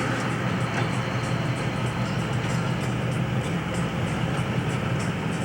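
A train rolls past at a rail crossing, heard from inside a truck camper as a steady low rumble with faint rhythmic clatter, fairly quiet and unbroken.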